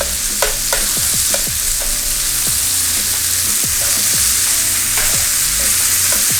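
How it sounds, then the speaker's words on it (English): Chopped onion sweating in lamb fat in a pan for a lamb noodle stir fry, giving a loud, steady sizzle up close, with spoon scrapes and clacks breaking in every second or so. "Let those sweat down in there with that nice lamb fat"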